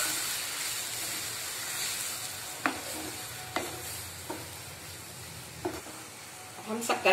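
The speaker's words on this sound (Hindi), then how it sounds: "अब इसमें हम आधी कटोरी दूध डाल देते हैं।" Milk sizzles and hisses as it hits roasting dried coconut and khoya in a hot pan, with a steady soft frying hiss broken by several sharp scrapes of a spoon stirring.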